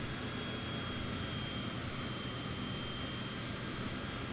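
A Cessna's engine drones steadily in Flight Simulator 2020, a constant, even hum with a thin high whine running through it and no voices over it.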